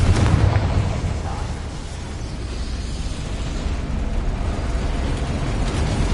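A Confringo blasting spell goes off in the Hogwarts Legacy video game, giving a loud, broad explosive burst that fades into a rumbling, crackling wash that lasts several seconds.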